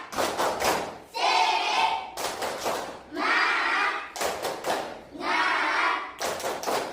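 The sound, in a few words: class clapping the 'tepuk semangat' clap chant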